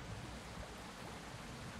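Steady rain falls in an island survival crafting game, a dense, even hiss of drops filling the whole short stretch at a constant level, with no voices over it.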